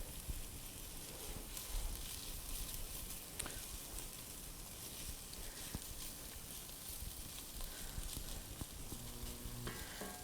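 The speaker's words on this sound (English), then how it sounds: "our sauteed onions and our seasoning with our garlic" Onions and garlic sautéing in a pan for marinara sauce, a continuous crackling sizzle with occasional spatula scrapes, steady and close throughout, no one speaking.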